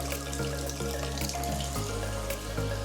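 Water runs steadily from a shower hand spray heated by a Camplux Nano 3 Pro portable gas water heater, a continuous hiss over a low tonal hum that shifts pitch partway through.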